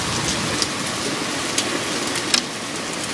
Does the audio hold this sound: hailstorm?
yes